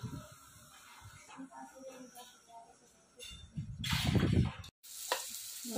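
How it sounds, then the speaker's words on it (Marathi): A Marathi tempering (phodni) sizzles in a hot pan in a home kitchen, a soft hiss that swells into a louder crackling burst partway through. "फोडणी चालू आहे"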